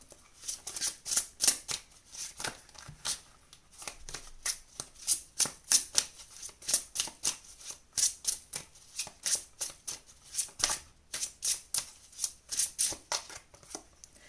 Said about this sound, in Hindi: यहाँ से हम और कार्ड्स निकाल लेते हैं आपके लिए